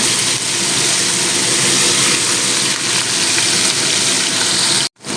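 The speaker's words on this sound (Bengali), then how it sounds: "তেলটা গরম হয়ে গিয়েছে এবার আমি মাছগুলো তেলের মধ্যে একটা একটা করে দিয়ে দেবো" Hilsa fish sizzling in hot mustard oil, a loud steady crackling hiss that continues unbroken for about five seconds before cutting off abruptly, with no talking.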